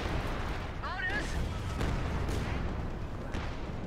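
Machine guns and mortars in a Company of Heroes 2 battle: dense, rumbling gunfire with scattered blasts runs throughout, and a brief voice cuts in over the noise.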